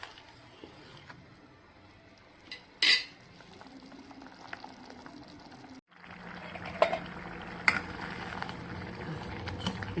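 A pan of tomato gravy for tomato thokku simmers and bubbles steadily with soft popping, punctuated by a few sharp clinks of a utensil against metal; no one speaks.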